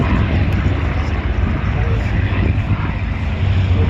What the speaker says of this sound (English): Black tail P-51s are being flown by Warren Peach